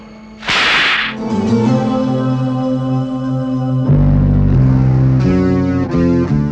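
A sharp, loud slap strikes once in a Hindi drama scene, swallowed at once by a swelling, sustained musical sting that holds and shifts through the rest of the moment.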